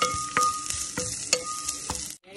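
Diced potatoes and onion added to hot oil in a pan, a steady close sizzle and crackle broken by several clicks of a utensil stirring against the pan.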